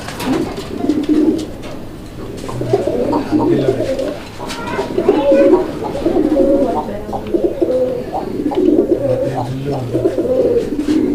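A red-coloured Raj-golla pigeon, a single male, coos in a low, repeated rolling rhythm close by, with steady cooing throughout and faint voices in the background.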